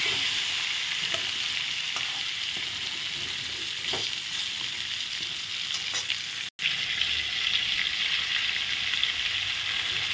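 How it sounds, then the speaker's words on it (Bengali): Whole pointed gourd (potol) and potato sizzle and fry in hot oil in a pan, giving a steady crackling hiss with a few faint stirring knocks and a momentary dropout partway through. "আস্তে আস্তে পটলগুলো ভেজে দিচ্ছি।"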